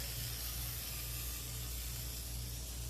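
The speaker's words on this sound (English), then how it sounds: "I'm just using my kitchen spritzer." A kitchen spritzer sprays oil into a non-stick pan in one steady, close hiss that runs unbroken and alone.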